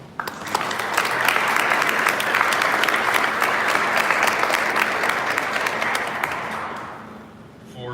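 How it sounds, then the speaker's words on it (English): Crowd applause during a St. Patrick's Day parade announcement swells quickly, holds as a full, even roar of clapping for several seconds, then tapers off toward the end. "Let's take a moment to recognize their dedication with a well-deserved round of applause."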